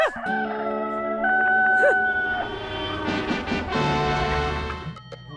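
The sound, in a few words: person imitating a rooster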